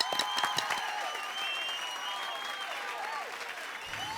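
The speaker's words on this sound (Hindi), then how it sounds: "क्या बात है, तालियां।" Studio audience at a comic poetry contest on a TV sitcom set claps steadily and densely throughout, a continuous wash of many hands with faint scattered voices underneath.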